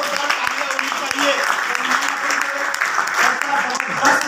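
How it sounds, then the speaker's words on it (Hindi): An audience at a Hindi product presentation in Ahmedabad breaks into loud applause, continuous clapping with a voice carrying over it throughout. "उनके लिए जोरदार तालियां होनी चाहिए।"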